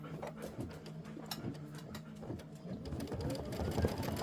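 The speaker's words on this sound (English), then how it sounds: "this is 3 minutes of stitching. So just go ahead and let it stitch." A home sewing machine stitches a Kimberbell quilt block with steady, rapid mechanical ticking and whirring at close range, growing slightly louder and busier toward the end.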